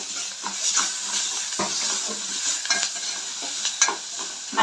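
Curry leaves, ginger and turmeric fry in hot oil, sizzling steadily while a spoon stirs through them with repeated scraping knocks against the pan, close and without talk.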